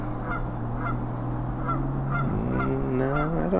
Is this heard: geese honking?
yes